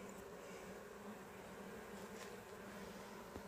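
A dense, steady drone of many bees buzzing close by on a hive frame, continuous and even, with no voices.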